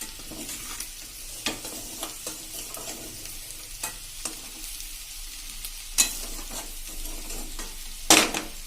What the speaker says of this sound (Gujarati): આપણે ફૂલ ફ્લેમ ઉપર જે થોડી કચાશ બટેટાની રહી ગઈ હોય એ આપણે હલાવશું